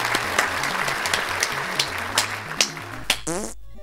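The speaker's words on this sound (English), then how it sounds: "So let's all give Cheryl a big round of applause." Applause claps through in short bursts under a low, stepping electronic tune, fairly loud, before cutting to a brief game sound at the end.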